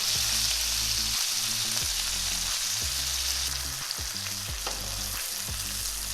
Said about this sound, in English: it's going to stand it up so that fat gets a good sear